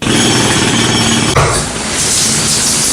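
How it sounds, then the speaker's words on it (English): A loud, continuous rapid hammering rattles without pause, shifting slightly in tone halfway through, like a jackhammer pounding nearby. "wait, is that a jackhammer?"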